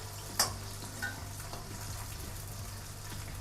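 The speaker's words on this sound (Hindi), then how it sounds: "अदरक भी भून रहा है और प्याज भी भून रहा है और लहसुन भी भून रहा है।" Onion, ginger and garlic fry quietly in a pan with a faint, steady sizzle. A few soft clicks of a spoon stirring sound over a low background hum.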